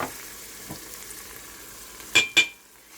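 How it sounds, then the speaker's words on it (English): Garlic and thyme sizzling in a pot over browned beef, a soft steady frying hiss with two sharp clinks of a utensil stirring near the end, fairly quiet and with no talking. "right now I am going to put in the garlic. And the thyme."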